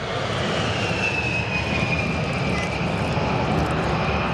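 A Tupolev Tu-154M airliner roars past at an air show, its jet engines producing a loud, steady, broadband rumble with a faint rising whine, continuous throughout with no talk.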